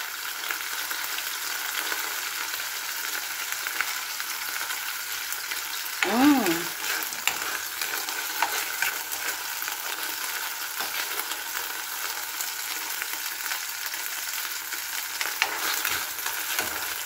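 Ground beef giniling frying in a pan for tacos, a steady close sizzle with a soft scrape of stirring partway through, otherwise even hiss and no voices.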